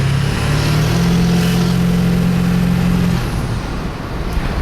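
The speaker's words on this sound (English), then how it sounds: "You could hear the truck isn't racing as hardcore." A 1999 Ford F350 Super Duty diesel truck with a steady, loud, low engine drone. A sustained tone holds, then drops slightly as the engine eases off.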